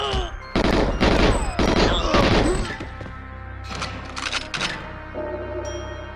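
Dual-wielded Klobb submachine guns firing in GoldenEye 007 on Xbox Live Arcade, loud rapid bursts of chattering shots in several clusters, tailing off into scattered fainter fire while someone talks over it.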